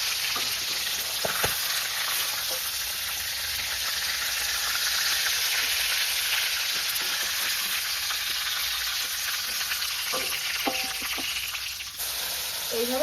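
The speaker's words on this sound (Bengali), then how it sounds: "এইভাবে সবগুলো মাংস আমি এক এক করে ভেজে নেব।" Chicken pieces sizzle in hot oil in a home kitchen, a continuous loud frying hiss with a few scattered pops and light clinks of stirring, and no talking throughout.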